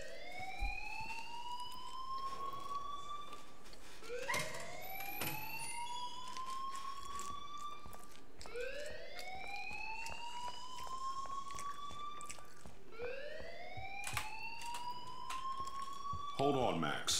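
A rising, wailing electronic alarm in a video game repeats in long swooping cycles of about four seconds each, loud and insistent, while voices talk beneath it.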